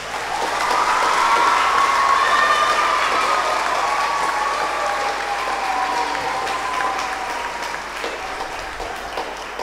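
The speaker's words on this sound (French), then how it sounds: "On va les applaudir bien bien fort." An audience at a Christmas Eve vigil applauds the team with sustained, dense clapping that stays loud throughout, with a faint hum of crowd voices mixed in.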